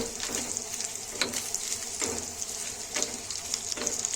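Bedki chillies crackle and sizzle steadily in a hot pan with garlic and curry leaves, with a dense frying hiss and periodic stirring scrapes at a moderate, close level.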